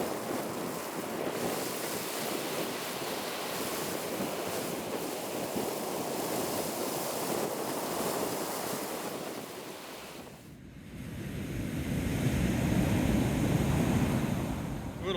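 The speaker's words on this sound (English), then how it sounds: "there is nothing like the sound of those waves to put you at ease" Ocean surf rolls onto the beach near the Assateague Island Hook, a continuous roar of breaking waves mixed with wind buffeting the microphone, briefly easing before surging again.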